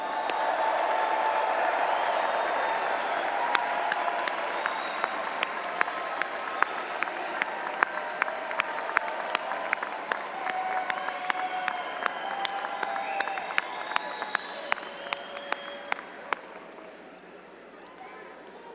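Graduates at a business school commencement ceremony applaud and cheer, a broad crowd roar with whoops under a stream of sharp, close individual claps that carry on before tapering off as the noise fades near the end.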